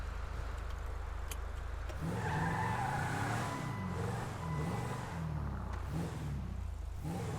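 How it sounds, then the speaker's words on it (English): A skid steer rolling through snow in FiveM GTA, its engine droning steadily with rising and falling revs and a faint squeal of tires, loud and continuous with no one speaking. "He's skid steering it again."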